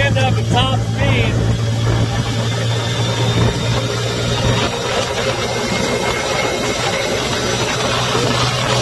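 Cazador side-by-side running at top speed, a loud, steady engine drone with a constant low hum and rushing noise, holding level for nearly nine seconds.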